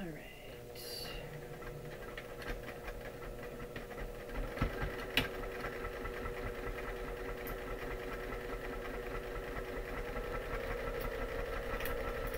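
A sewing machine runs steadily while stitching an overnight bag, a faint continuous mechanical hum and patter with small clicks, going the whole time at an even pace.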